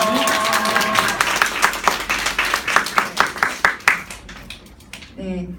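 Church congregation at a high school youth service claps in thanks, a sustained round of applause with scattered sharp hand claps that peaks and then thins out, while a voice speaks at the start and again near the end.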